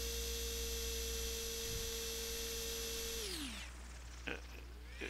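An RC model's motor whines steadily in the RealFlight 7 simulator game, then the tone drops and spins down as the throttle is pulled to low, a thin electronic hum over faint background noise.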